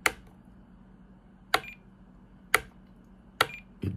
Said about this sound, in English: it beeps when it's off